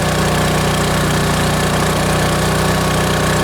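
A Champion 73001I-E 3.5 kW inverter generator runs under electrical load with a steady, loud engine drone and a constant low hum, with no pauses and no voices.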